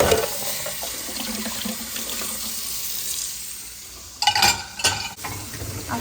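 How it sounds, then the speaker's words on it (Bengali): Dishes being rinsed one by one under a running kitchen tap before going into a dishwasher, with a steady hiss of water, soft clatter and louder splashing bursts toward the end. "এই যে এখন আমি ডিশ ওয়াশারে সব ডিশগুলো দিয়ে দিচ্ছি, একটা একটা করে ধুয়ে"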